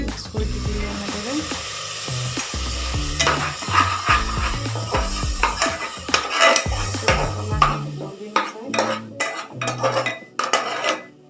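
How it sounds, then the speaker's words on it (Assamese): Egg biryani masala stirred over a low flame in a metal pot: busy scraping and clanking of a spoon against the pan with a faint sizzle, loud and close, with an indistinct voice in the background. "মই এনেদৰে ল' ফ্লেমতে লৰাই আছোঁ"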